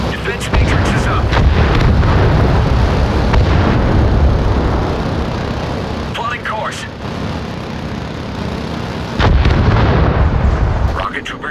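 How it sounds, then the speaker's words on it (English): A rocket artillery barrage in Crossfire Legion detonates as a dense, loud, continuous rumble of explosions that swells again near the end, with a game voice speaking over it. "Barrage incoming to target courts. Barrage on target."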